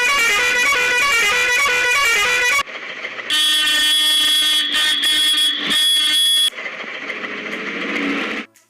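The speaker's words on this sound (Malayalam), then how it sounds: "വണ്ടികളിൽ കൊടുത്തിരിക്കുന്ന ഹോർൺ നിങ്ങളിപ്പോൾ കേട്ടിട്ടുണ്ട്." Loud vehicle horns from a Kerala speed traffic mod in a video game: a rapid melodic multi-tone horn, then a blaring sustained truck-style air horn with brief breaks, then a lower, wavering horn that fades out.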